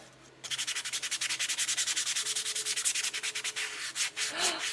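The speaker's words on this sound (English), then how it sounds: "I am sanding and prepping." Steady rhythmic sanding of wood and acrylic bookmarks, a rapid back-and-forth rasp repeated many times, close and loud, with a faint hum underneath.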